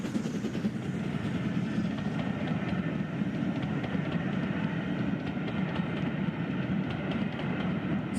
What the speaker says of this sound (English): So I take it you like the sound of the 9Fs chuffing then, Electro?